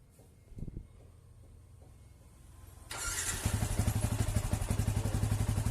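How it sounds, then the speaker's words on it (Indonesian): An older Yamaha Vixion motorcycle with a current leak fault being started: a few faint clicks and thumps, then the engine catches suddenly and settles into a loud, steady, rapid idle close by. "Pite coba dinyalake."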